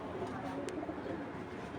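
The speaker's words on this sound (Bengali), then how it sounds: "তো এই দুইটা কবুতর খুবই সুন্দর দেখেন" A pair of fancy domestic pigeons coos nearby in a steady, low murmuring stream that runs unbroken through the short moment.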